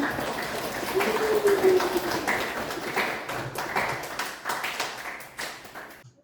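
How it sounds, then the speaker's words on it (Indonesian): Applause from a classroom of students for their enthusiasm, a dense spatter of claps that runs steadily for about six seconds and then cuts off, with a voice faintly audible beneath. "Terima kasih, aplaus untuk kalian, semangatnya."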